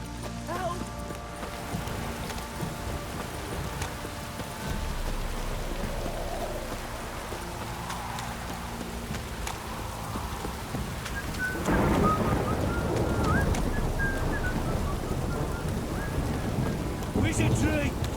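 Heavy rain and thunder in The Witcher 3 video game, a steady wash of downpour that grows louder partway through, with faint rumbles and clopping hooves mixed beneath, moderately quiet overall.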